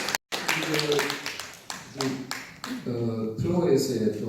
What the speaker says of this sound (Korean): 큰 박수 부탁드릴까요?